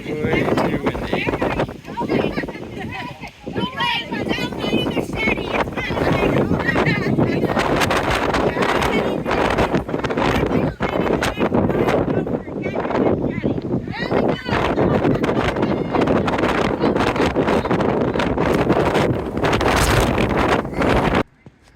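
Strong wind buffets a microphone on a mountain ridge trail at Kuli'ou'ou Ridge, with a loud, gusting roar that continues throughout and a voice speaking now and then beneath it.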